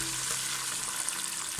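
Boiling water is poured into a pot of rice for a Thalassery-style prawn biryani, producing a steady loud hiss and bubbling rush that continues unbroken for the whole moment.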